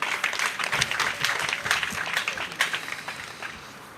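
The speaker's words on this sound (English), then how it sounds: "Can you give another round of applause, please?" Applause at a vocational skills graduation ceremony for inmates at a training centre, a steady wash of many hands clapping for about four seconds before tapering off near the end.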